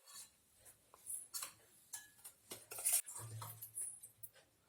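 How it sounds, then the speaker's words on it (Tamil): Mutton being mixed into a yogurt and salt marinade in a bowl for Salem mutton sukka: quiet, close, irregular clinks and scrapes of a utensil against the bowl, with short pauses between strokes. "இப்போ இதில் மட்டனை போட்டு நல்லா கலந்து வச்சு ஒரு 1 மணி நேரம் நல்லா ஊற விட்டுடுங்க"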